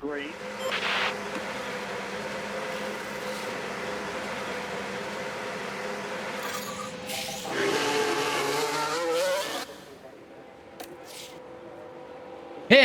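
F1 cars racing at the Canadian Grand Prix in F1 Manager 24: a constant buzzing, whining engine drone with a louder surge of passing cars near the middle, then thinning out, with a voice talking over it.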